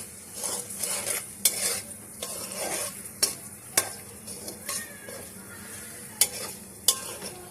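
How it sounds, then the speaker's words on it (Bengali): Vegetables frying in a pan with ground coriander as a spoon stirs them, a steady close sizzle broken by sharp scraping clinks of utensil against metal at irregular intervals. "নাড়তে থাকবো।"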